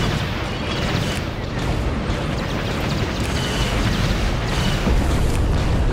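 Heavy weapons fire in a Star Wars Empire at War space battle, a thick, unbroken roar of blasts and rumbling explosions that stays loud for the whole stretch.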